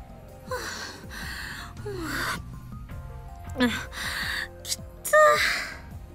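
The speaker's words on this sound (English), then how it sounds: "Kurisu gasps for breath" A character in the Steins;Gate video game gasps for breath in several short, sharp bursts, with quiet background music running underneath.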